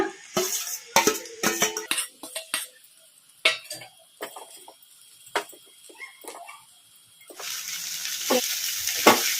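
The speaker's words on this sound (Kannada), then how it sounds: "ಐ ಫ್ಲೇಮಲ್ಲಿ ಇಟ್ಕೊಂಡು ಫ್ರೈ ಮಾಡ್ಕೋಬೇಕು ರೈಸ್" Egg fried rice stir-fried in a pan over high flame: a spatula clanks and scrapes against the pan in close, irregular strokes, then a steady loud sizzle takes over toward the end.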